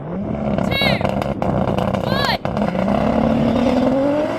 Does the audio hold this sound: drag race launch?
yes